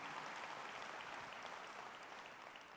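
Faint, even applause from a conference audience at an annual meeting keynote in Nashville, a soft continuous patter heard from a distance without speech.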